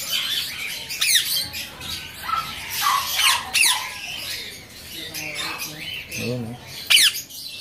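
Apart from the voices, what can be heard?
finches in an aviary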